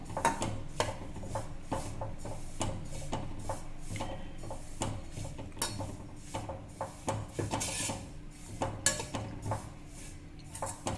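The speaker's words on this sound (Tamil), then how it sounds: "இதை வந்து சட்டியில் போட்டு வறுத்துன்னு வந்துடலாம் இதை வறுத்துக்கலாம்" Oats dry-roasted in a pan, with a utensil scraping and stirring in steady, repeated strokes at close range, each stroke a dry, grainy rasp against the metal.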